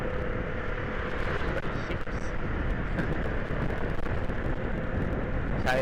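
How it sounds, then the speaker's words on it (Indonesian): A motorcycle with a modified leaky exhaust rumbles continuously close by, a loud steady roar with rough low-end crackle and wind noise, no speech. "Knalpot sudah bagus dibocorin."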